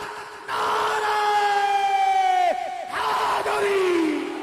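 A large crowd at a religious gathering chants slogans in honour of Mola Ali in loud, unison shouts, two long sustained calls whose pitch slides downward, with a brief break between them.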